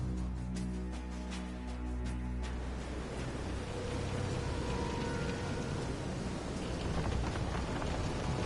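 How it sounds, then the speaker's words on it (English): Heavy rain roars steadily through a storm scene in the video game Visions of Mana, with a deep thunder rumble early on, dense and continuous, and no voices. "This is some storm."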